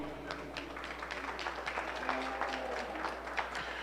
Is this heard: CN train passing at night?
no